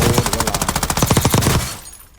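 Rapid automatic gunfire from a mounted weapon in Black Ops 6, a loud, steady burst of evenly spaced shots lasting about a second and a half before cutting off into quiet.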